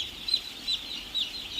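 Day-old baby chicks on a poultry farm peep in high, thin chirps, a few spaced calls rising and falling over a soft steady background hiss, with no voices.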